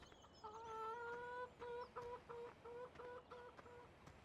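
Chickens in Farming Simulator 17 cluck in a run of short repeated calls, close and fairly loud, over a low farm background with no talking.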